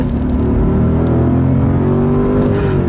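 A 2006 Audi S4 with a manual gearbox and V8 engine accelerating on a straight road, a loud steady rumble from inside the car with engine tones climbing smoothly.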